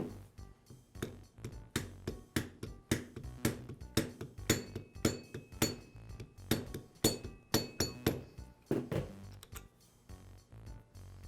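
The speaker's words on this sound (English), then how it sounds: "I'll place the bearing onto the shaft and use a socket to tap it into place" A socket taps a new bearing onto the shaft of a DeWALT grinder in a quick, uneven run of sharp metallic clinks that goes on for several seconds, close by and fairly quiet.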